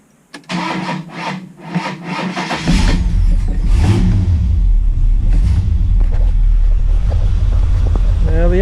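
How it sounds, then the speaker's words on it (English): An XC Ford Falcon wagon with a 351 V8 cranks for a couple of seconds with rapid starter pulses, then fires and settles into a loud, close, steady running rumble with a slight rev. "I'll just give the car a bit of a bump to start it."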